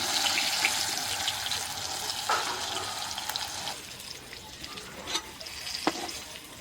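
Gurmi greens frying in a pan, a steady close hiss with a sharp spatter and a few stirring scrapes and taps, no voices.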